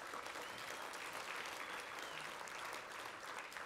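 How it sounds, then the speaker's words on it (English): Audience applause at a 4-H awards banquet, steady dense clapping from a large crowd, continuous and fairly loud throughout with no speech. "Let's give her another round of applause."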